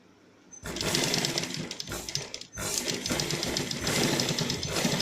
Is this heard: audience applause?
no